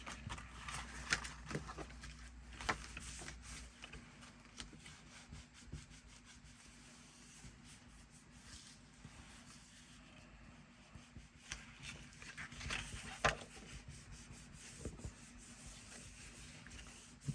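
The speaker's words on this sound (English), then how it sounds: "Burnish down real good." A glued album page is burnished down inside the front cover by hand, giving soft, uneven rubbing and scraping strokes that come close and fairly quiet, with a few louder bumps.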